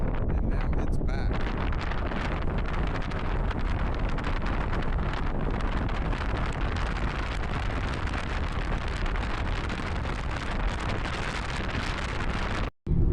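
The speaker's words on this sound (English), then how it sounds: "And just like that, the wind has returned to Iceland." Strong wind roars steadily over a vehicle in Iceland, a loud broadband buffeting that fills the whole stretch and cuts off abruptly near the end.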